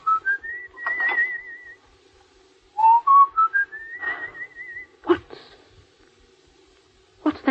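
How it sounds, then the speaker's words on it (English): A person whistles a song in short melodic phrases with gliding, warbling notes, pausing between lines, alongside a few sharp knocks and clatters in a quiet room in an old-time radio play. "What's that you're whistling?"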